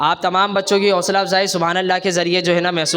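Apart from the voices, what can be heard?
None of the usual background noises is heard.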